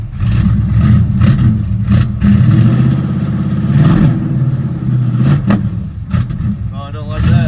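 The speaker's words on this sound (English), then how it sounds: "This is idling by itself. No choke." A 1975 Pontiac Firebird Formula with a V8 engine idles without choke, a loud, low, uneven rumble, close by, while someone talks over it.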